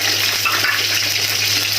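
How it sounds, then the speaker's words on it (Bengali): Chopped onions frying in oil in a wok with a bay leaf, a steady close sizzle and hiss without pauses. "আমি পেঁয়াজটা হালকা ব্রাউন কালার হওয়া পর্যন্ত ভালো মতো ভেজে নিব"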